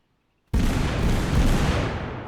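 A splinter or cluster grenade detonates in a video game, one abrupt, loud, broadband blast after brief silence, followed by a sustained rumbling roar that slowly fades.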